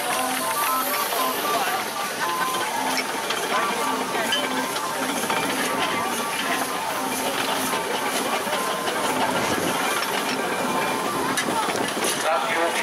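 A steam traction engine passes close by at a steam rally in Driffield, its hiss and chuffing running steadily through the clip over loud outdoor crowd noise and background voices.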